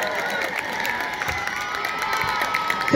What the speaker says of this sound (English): Everyone clap for Jeremy.